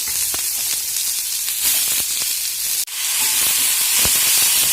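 Chopped onion sautéing in coconut oil with cardamom, nutmeg and a bay leaf for mint rice pulao, giving a steady, loud broadband sizzle and hiss throughout with a few faint clicks and one brief dip near the middle.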